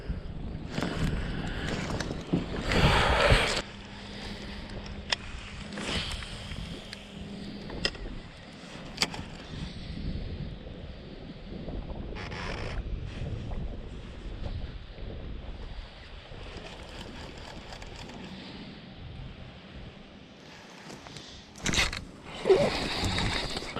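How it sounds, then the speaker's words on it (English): Cold, gusty wind buffeting the microphone outdoors while largemouth bass fishing from a boat, a steady rushing roar with louder gusts and faint water sounds, no talking. "It's been very cold and very windy."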